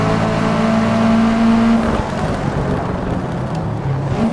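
A Subaru race car in the Forza racing game accelerating hard, its engine droning loud and steady with rising revs and a gear shift partway through, close and continuous.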